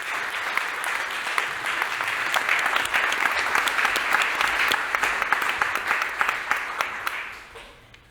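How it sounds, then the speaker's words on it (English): Audience applause at a motor industry event as panel experts take the stage, a full round of clapping that builds, holds steady for several seconds, then tapers off at the end. "Please welcome all our experts on the stage with a big applause."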